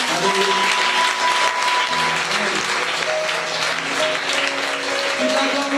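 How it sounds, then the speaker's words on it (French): A church conference congregation applauds and cheers loudly and continuously, a dense wash of clapping mixed with voices and sustained tones from music or singing throughout. "Nous acclamons le Seigneur bien fort."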